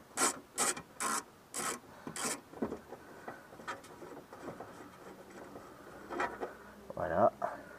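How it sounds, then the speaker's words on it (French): A screwdriver works out screws on the rear window mechanism of a Renault Super 5, making a series of short rasping, ratcheting bursts close up, followed by scattered rubs and clicks. "maintenant, on va desserrer le mécanisme. Il n'y a que 3 vis à enlever."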